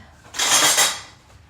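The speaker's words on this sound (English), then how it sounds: "we're going to add 2 cans of the diced tomatoes with the green chilies. Put those right in." Two cans of diced tomatoes with green chilies tip into a cooking pot, making a single loud, wet splattering rush that swells and fades over about half a second.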